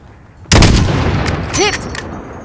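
A single loud sniper rifle shot rings out in Call of Duty: Modern Warfare (2019) during a desert sniping mission, a sharp blast followed by a long rolling echo, with faint chirps trailing afterward.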